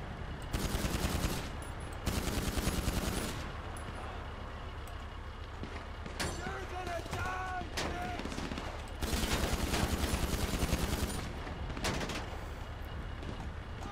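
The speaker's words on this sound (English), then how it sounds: "They're shooting through the trees, you can't shoot them through the trees." Video game gunfire comes in two or three loud automatic bursts with a steady engine-like rumble between them. A voice speaks briefly in the middle.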